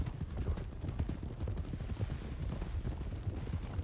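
Horse hooves clip-clop steadily in the Red Dead Redemption roleplay game Wild RP, a rhythmic low clatter running through the whole stretch at moderate loudness, with faint sharper sounds in the background.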